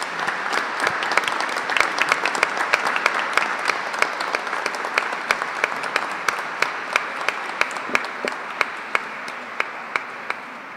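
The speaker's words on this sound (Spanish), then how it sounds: "Le damos un fuerte aplauso." A church congregation at Mass breaks into sustained applause, a dense, steady wash of many hands clapping that fills the space with no pause.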